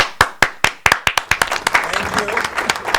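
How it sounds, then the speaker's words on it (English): Audience applause at a live show: several sharp, evenly spaced claps open the sound, then more hands join into a thicker, ragged round of clapping with voices mixed in. "More applause."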